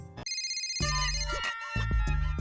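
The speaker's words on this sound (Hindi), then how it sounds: "मेहता का फोन" An electronic phone ringtone plays a bright, repeating melodic pattern, loud and clear, with no one speaking.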